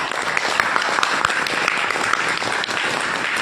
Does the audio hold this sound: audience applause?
yes